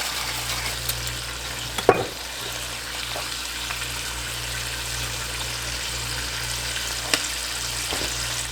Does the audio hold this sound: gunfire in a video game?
no